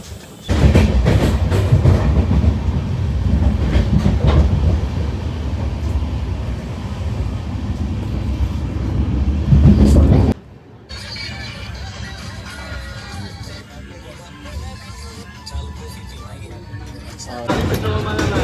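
Loud rolling train with clattering wheels for about ten seconds at Sujanpur railway station in Punjab, then a quieter stretch of station ambience before the rumble returns.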